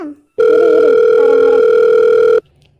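A phone rings with an incoming call: one loud, steady electronic tone holds for about two seconds on its own, then cuts off sharply.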